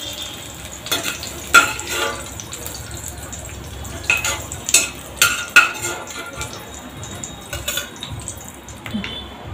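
Finely chopped onion frying in a pan gives a soft background sizzle, broken by repeated clinks and scrapes of a spoon stirring against the metal pan.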